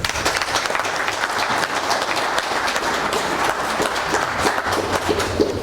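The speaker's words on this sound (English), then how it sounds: "please join me in giving our retirees a round of applause" An audience at a teachers' retirement appreciation event in Fiji gives the retirees a round of applause: steady, dense clapping from many hands throughout, with no voices over it.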